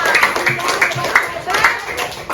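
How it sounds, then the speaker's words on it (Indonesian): A group claps for everyone after a countdown, uneven close hand claps mixed with voices talking over them. "Tepuk tangan dulu buat semuanya"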